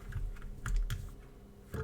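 Typing on a keyboard fitted with FEKER Holy Panda tactile switches, a few scattered keystrokes and small clusters of clacks, moderately close and alone without talk.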